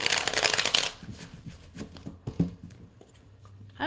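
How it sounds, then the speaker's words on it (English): Tarot cards are shuffled close up in a rapid, dense riffling burst that breaks off into scattered softer taps and card slides during a reading. "let's start shuffling,"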